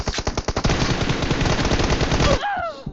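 Rapid automatic gunfire from a shooting video game played on an iPad mini 5, a loud sustained burst of dense shots that stops abruptly near the end, followed by a brief electronic sweep.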